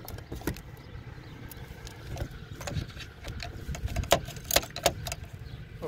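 A bolt is tightened on the purge valve of a 2016 GMC Acadia, giving scattered sharp metallic clicks and small rattles over a low background rumble, close and moderately loud.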